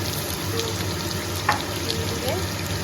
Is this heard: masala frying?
yes